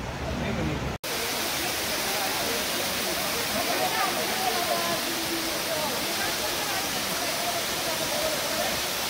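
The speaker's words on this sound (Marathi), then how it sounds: "सध्या मी उभा आहे रिंबी वॉटरफॉल येथे" Rimbi waterfall in West Sikkim roars as a dense, steady rush of falling water, loud and close, filling the whole stretch without letup after a brief break at the start.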